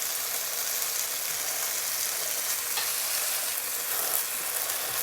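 A chicken breast with Elote seasoning sizzles loudly and steadily on a grill pan after flipping, a dense, even frying hiss with a faint tap partway through.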